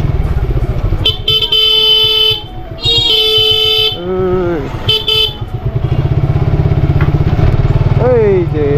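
A motorcycle speeds along a village main road lined with potato and tobacco fields near a market, its engine thrumming steadily up close while car and bike horns honk repeatedly around it and a voice talks over the ride.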